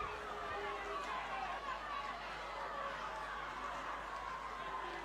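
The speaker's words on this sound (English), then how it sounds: "Crowd getting a bit restless." A rugby stadium crowd at a Fiji Vanua Championship quarter-final, Rewa against Ovalau, murmurs and chatters restlessly as a steady, distant wash of many voices with no single standout shout.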